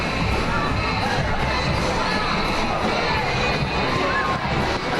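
Dense, loud crowd noise at a 2008 Christmas parade in Richmond, with cheering and children shouting continuously along the street and voices mixed into the din.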